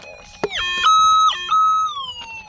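Minelab SDC 2300 metal detector signalling over a buried shell on gold dredge tailings: a few loud, wavering electronic tones that swoop up and down in pitch, one after another, with no talk over them.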